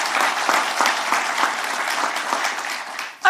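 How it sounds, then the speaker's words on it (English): Audience applause at a VA medical center ribbon-cutting ceremony in Chelsea, a steady, fairly loud crowd clapping that holds for a few seconds before a voice begins at the end. "Can we have a round of applause on that?"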